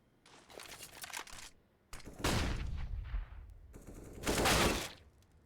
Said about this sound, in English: Maka is peeking middle with that AWP, and him and GXX will exchange shots, but no connections.